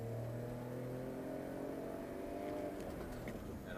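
A BMW X5 engine is wound out hard under acceleration on a high-speed road test, a steady, loud drone with rising harmonic tones that holds continuously throughout.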